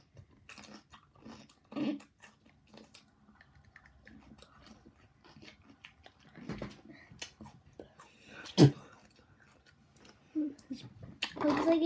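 A person chewing and crunching pickles, close moist bites and munching in scattered bursts, mixed with faint talk from children and a sharp loud crunch near the end.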